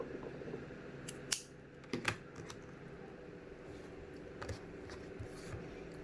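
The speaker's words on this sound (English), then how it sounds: "you just cut about this length of extra yarn" Scissors snip extra yarn while finishing a loomed beanie, giving a few sharp, faint clicks and snips against a quiet room, with soft handling noises between them.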